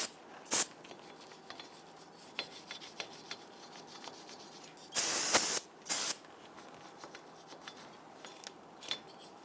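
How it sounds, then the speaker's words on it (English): Short hissing bursts of aerosol brake cleaner sprayed onto a front brake hub of a 2000-2006 Toyota Tundra: a quick spritz, then two longer close, loud blasts, with faint scrubbing and rubbing between them. "Spray it down with some spray solvent"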